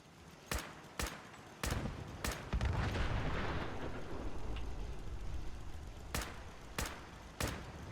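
Explosions and gunfire in the video game Fallout 4: a string of sharp, loud blasts at roughly even intervals, with a thick rumbling surge of explosive noise in the middle, heard without speech.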